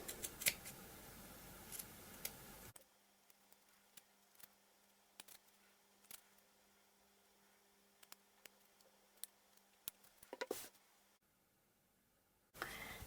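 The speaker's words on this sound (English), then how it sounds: "Trim the edges" Scissors trimming the edges of a print fabric ornament, a series of faint, close snips and clicks spaced irregularly over quiet background.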